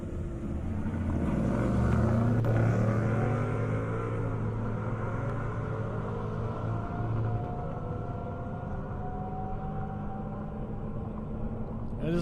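A new 2023 Toyota Corolla Circuit Edition and a Mustang racing side by side down a half-mile airport drag strip. Loud engine drone rises in pitch as they accelerate and holds steady as the run continues.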